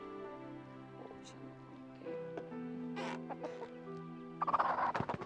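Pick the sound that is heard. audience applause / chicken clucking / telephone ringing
chicken clucking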